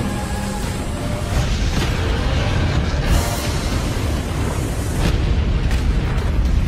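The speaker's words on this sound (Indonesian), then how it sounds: "Shinashi pada akhirnya memilih untuk meledakkan diri sebelum benar-benar mokoi." A character in an animated fantasy battle blows himself up, producing a loud, sustained roaring explosion with deep rumble and repeated bursts of debris across the whole stretch, no talk heard.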